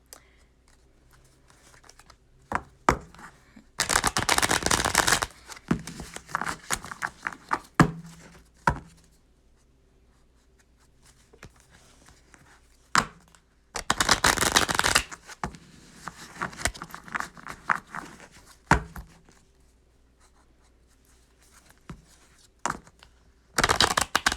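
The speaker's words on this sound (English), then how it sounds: "I'm going to be quiet while I shuffle the deck" Cards are riffle-shuffled in two long, loud bursts of rapid flutter, separated by quieter stretches of handling, taps and soft shuffling.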